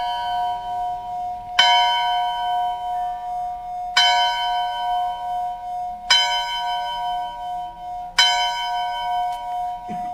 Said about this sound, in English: This is one of those 10 a.m. bells in Paintsville.